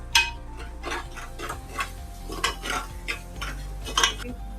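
Chili paste frying in a pan while being stirred, for a homemade mutton dish: a low sizzle with a string of scraping and clinking spoon strokes, close and moderately loud, with no speech.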